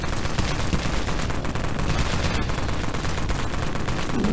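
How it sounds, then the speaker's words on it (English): Sustained automatic fire from a war carbine in the Dead Frontier zombie game, rapid shots packed into a loud, unbroken spray from start to finish. "I don't know if you guys can hear me through the bullet spray."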